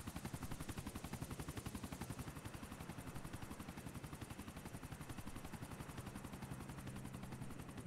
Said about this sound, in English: There goes the chopper.